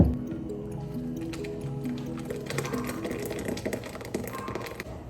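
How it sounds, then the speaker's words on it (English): A Persian fruit mixture for lavashak squelches and drips as it is pushed through a strainer into a glass bowl, with close, wet squishing and soft scraping in an irregular rhythm. "strain the mixture through the strainer into a glass bowl"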